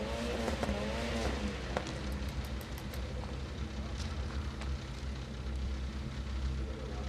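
Rallycross race cars at Kymiring roar past with engines revving and shifting, a steady loud motor drone filling the whole stretch with brief rising whines.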